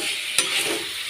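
Pork frying in its own rendered fat is stirred in a pan, giving a steady close sizzle with one short scrape of the spoon partway through.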